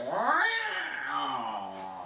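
Loud drawn-out yowling meow of an old barn tomcat played through an electronic predator call, a single rising then falling cry lasting about two seconds.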